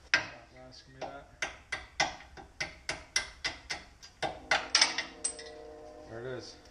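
A series of sharp metallic hammer blows from a big hammer on a Lincoln Town Car's suspension during a hydraulic install, roughly steady and a few per second, ringing briefly with a faint background hum.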